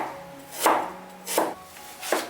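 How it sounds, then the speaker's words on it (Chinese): Knife chops ginger and garlic into small pieces on a board, three crisp, evenly spaced thuds with quiet pauses between, close and clear with no talking. "姜蒜切成粒"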